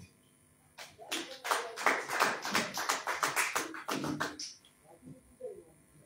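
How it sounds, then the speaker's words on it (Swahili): A small audience at a Swahili sermon clapping hands, about a dozen sharp close claps in an uneven rhythm that rise and then fade into quieter scattered taps. "pigeni makofi."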